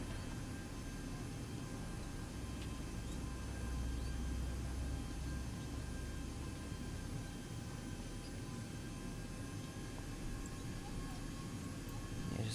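Boeing 737-800 engines idling in a flight simulator, a steady droning whine and low rumble that holds constant throughout, with faint tonal hum above.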